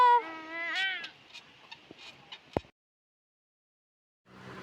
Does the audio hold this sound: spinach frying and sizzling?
no